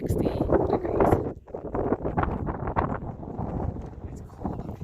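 Gusty wind buffets the top of a viewing tower on a 4,000-foot mountain, roaring steadily and close against the microphone throughout, with rustling and muffled bursts.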